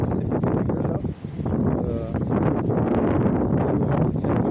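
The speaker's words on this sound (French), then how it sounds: "Waouh, ça souffle." Strong gusts sweep through an outdoor tomato garden, buffeting the microphone in a steady, loud roar with rustling throughout, briefly dipping before surging again.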